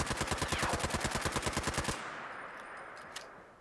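A Two Shot handmade rifle in Fallout 76 fires a rapid, evenly spaced automatic burst of about twenty loud, close shots, then stops, leaving quiet ambience and one faint click.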